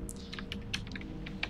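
Numbers being typed on a computer keyboard, a quick run of crisp, close key clicks in an irregular rhythm over a steady low room hum, with no talking.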